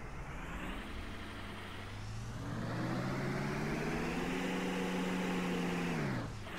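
A bus engine in the Rigs of Rods driving game, a 1999 AmTran International, revs up from idle, its pitch rising and holding at a loud, steady drone before dropping away at the end, with no talk over it.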